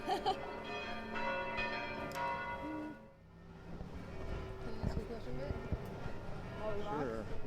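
Church bells ring at noon in Rome, several overlapping tolls with long resonant hum, fairly distant, beneath people talking nearby and street noise.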